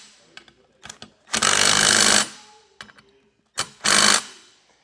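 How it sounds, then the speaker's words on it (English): A 9/16 tool tightens bolts while fitting SumoSprings Maxim custom helper springs, heard as two loud, close bursts of rapid driving with short clicks and clanks between them. "Take a 9/16 and tighten them down."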